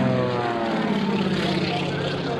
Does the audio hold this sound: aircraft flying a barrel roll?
yes